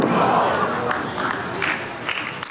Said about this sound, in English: Somebody in the crowd yelled out, "Missed," as it was halfway down the rink